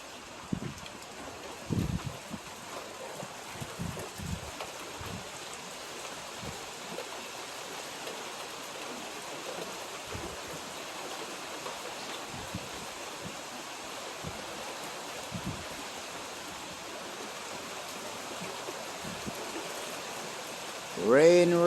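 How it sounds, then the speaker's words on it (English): Steady rain with a breeze under dark, heavy clouds early in the day, a constant close hiss broken by a few soft low thumps. "Rain, rain, rain, rain, rain, rain, rain."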